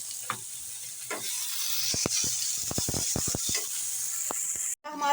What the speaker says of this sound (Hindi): अब हम टमाटर और हरी मिर्च भून लेंगे।